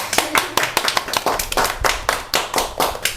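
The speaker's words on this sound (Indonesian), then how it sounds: "Tapi tepuk tangan dulu dong biar bisa" A few people clap their hands in quick, uneven bursts at an Indonesian podcast taping, the claps sharp and close with brief gaps between flurries.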